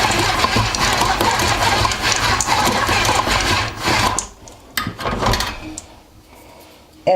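A KitchenAid stand mixer churns chocolate chip cookie dough with a steady, loud motor whir for about four seconds, then shuts off, leaving a few soft clinks and bumps in near quiet.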